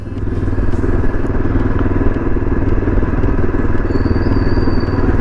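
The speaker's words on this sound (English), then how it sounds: "So now since we are in 3rd gear, yeah, let's do 4th." Yezdi Adventure motorcycle riding along and shifting up into fourth gear, a loud, close engine drone with clattery texture and a few brief clicks, a faint high whine appearing near the end.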